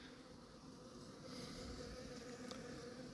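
A hornet flies among honeybees inside an apiary tent, its buzzing mixed into a steady, fairly loud hum of many bee wings that swells slightly midway, with no talk.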